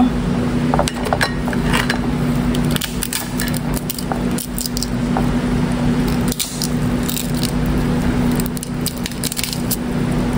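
A mud crab being cracked open by hand for cooking, with repeated sharp clicks and crunchy shell snaps over a steady kitchen background hum, close and fairly loud throughout.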